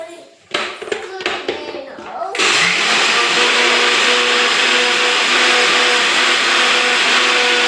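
A mixer grinder whirs with green chillies inside, starting after a couple of seconds of handling knocks and then running as a loud, steady motor drone right up close until the end.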